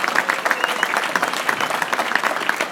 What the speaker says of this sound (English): recognize you and give you a round of applause